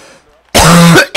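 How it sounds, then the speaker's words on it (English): A single loud, close cough bursts out sharply and rasps for about half a second, followed by a brief start of another sound. "Ooh, I got a little bit of cough"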